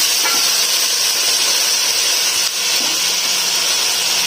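Tomatoes fry in hot oil in a pan with the spiced base for a white matar pulao, giving a loud, steady, close sizzle that hisses without a break.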